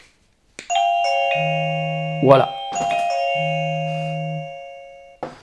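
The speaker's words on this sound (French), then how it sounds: "Maintenant, on va appuyer sur la sonnette." A wireless video doorbell chime, the ieGeek Bell J10, rings out a clear multi-note ding-dong melody indoors, loud and close, with a brief spoken word in French partway through.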